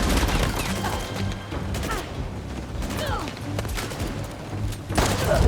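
Gunfire in the stealth action game Uncharted: The Lost Legacy, a dense run of shots and thumps mixed with game effects, steady and loud throughout with a heavier burst near the end.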